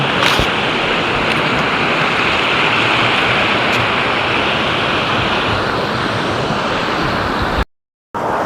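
Steady, broadband rushing of a flowing river fills the whole stretch at a constant level, cutting out abruptly near the end.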